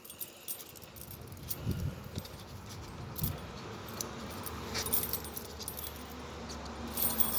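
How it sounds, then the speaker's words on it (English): A big ring of metal keys jangles and clinks continuously at moderate volume, with occasional sharper clatters as the keys shift against each other. "So I got a big ring of keys."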